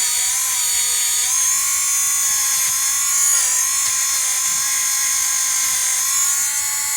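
A RYOBI FVM51 4-volt rotary tool with a 1/8-inch collet runs steadily, giving a loud, high-pitched, even whine with slight wavers. No one speaks.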